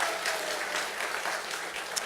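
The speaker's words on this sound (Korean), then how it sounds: "이 시간 큰 박수와 함께 우리 함성으로 영광 돌려드렸으면 좋겠습니다" Church congregation applauding, dense clapping filling the room at a steady level, with no voices standing out.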